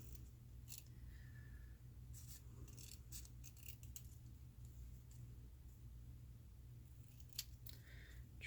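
Scissors snip through a paper word cut-out being trimmed at a crafting table, giving a scattering of short, crisp cuts in bursts over steady low room hum, fairly close and quiet.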